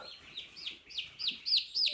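Day-old turkey poults, a box of 48, give high thin chirps and peeps in a quick run of short calls that grow louder toward the end, close by and without talk.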